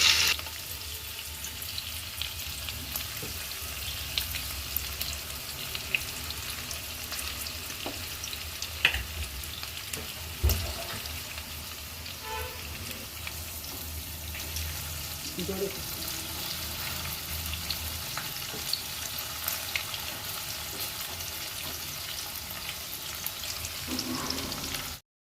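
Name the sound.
crispy okra (bhindi) frying in hot oil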